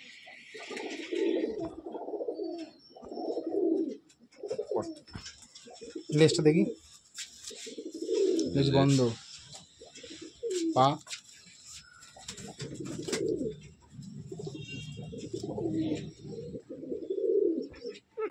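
Madrasi and Giribaz pigeons coo in a loft, their low throaty calls recurring in soft rounds beneath people talking close by.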